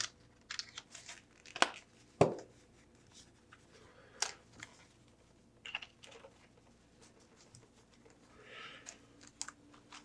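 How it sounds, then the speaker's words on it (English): Plastic packaging is peeled and pulled off a 1/6 scale Joel action figure, giving scattered crinkles, tears and sharp clicks at close range with quiet gaps between them. "Let's get this plastic off."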